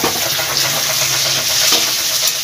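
Two large sliced onions fry in a pan with a soft, steady hiss that swells slightly midway, close and unbroken, with no talking.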